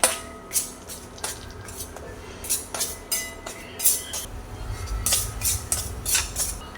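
Semolina is roasted in ghee in a pan for sweet shira, with a spoon scraping and stirring in quick, rhythmic strokes against the metal over a soft sizzle.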